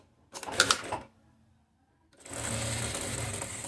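A sewing machine stitching a seam on a men's shirt, a short burst of rapid stitching, a pause, then a second steady run of stitching, close and clear.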